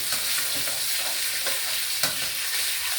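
Pork stir-frying in a hot pan with garlic, a steady close sizzle broken by a few scraping stirs, with no talking.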